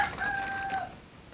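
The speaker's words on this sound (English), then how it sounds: "the chicken want to be part of my video" A chicken crows nearby, one drawn-out call lasting under a second that fades into soft background noise.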